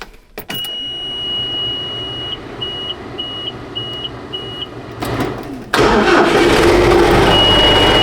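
A small ATV engine cranks briefly, then a series of electronic beeps sound before the engine catches and roars into a loud, steady idle.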